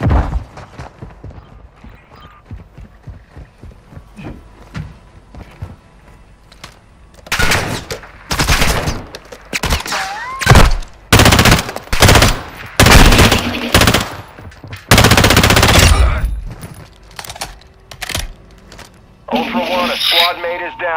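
Call of Duty gunfire crackles in scattered shots before heavy machine-gun bursts take over, loud and close, with several pauses between volleys, while players talk and radio-like voices come through.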